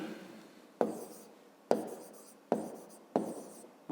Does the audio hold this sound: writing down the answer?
yes